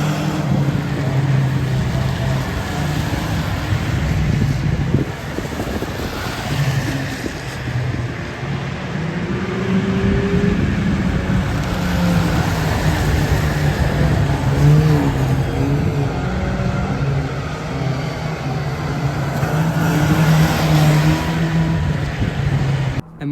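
Race cars circle the oval at Cowdenbeath Racewall, a continuous loud roar of engines with rising and falling revs as the pack passes, mixed with broad crowd-like noise for the whole stretch.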